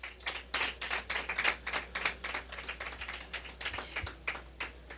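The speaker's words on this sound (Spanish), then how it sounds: "Dale un aplauso a Cristo" A church congregation claps during a Bible study session, producing a quick, steady run of sharp hand claps at moderate distance with no talk over them.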